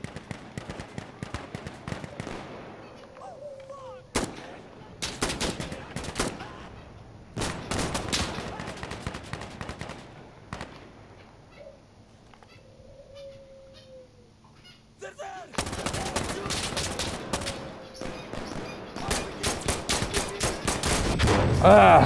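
Gunfire in the shooter game Insurgency: Sandstorm, rapid rifle bursts and single shots cracking in clusters with quieter pauses between, heavier volleys near the end, loud and close.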